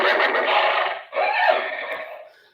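Horse whinny sound effect from a VISION model train horse car, a loud, continuous neighing call lasting about two seconds with a brief break midway before trailing off.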